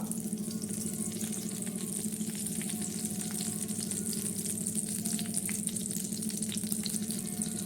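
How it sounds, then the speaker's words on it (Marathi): Semolina roasting in ghee for a banana, milk, cashew and almond prasad, giving a steady, close frying sizzle with faint stirring scrapes throughout, no voices. "आता आपण हा आपला रवा भाजून घेणार आहोत"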